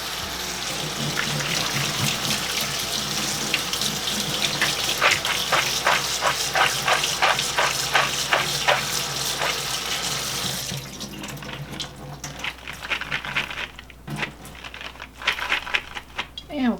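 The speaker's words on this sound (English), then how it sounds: "Now I'll rinse." Tap water runs steadily into a kitchen sink while beans for a crockpot ham soup are rinsed, a close continuous rush that cuts off, leaving faint drips and handling sounds.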